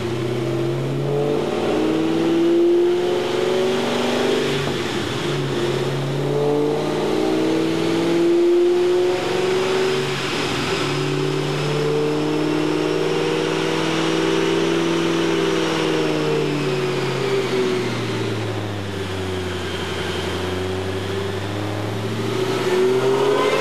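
Supercharged Roush Mustang with a cold air kit, supercharger pulley and custom tune, engine run on a dyno: a loud continuous roar that repeatedly climbs in revs, dips and rises again, with supercharger whine riding on top.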